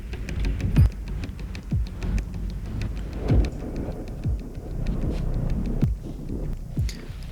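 Steady rain patters through an Assassin's Creed Shadows game scene, with a constant hiss broken by several sharp low thumps and cracks spaced every second or so.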